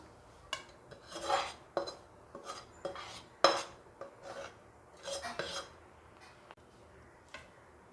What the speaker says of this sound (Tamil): இப்போ எடுத்து நம்ம இது க்ரீஸ் பண்ணி வச்சுருக்க பிளேட்டில் ஆட் பண்ணிடலாம்